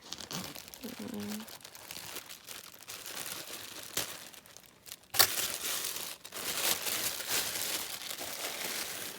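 Meshy craft trim on a spool is handled up close, giving bursts of crinkling and rustling that swell louder in the second half, with a brief faint voice early on.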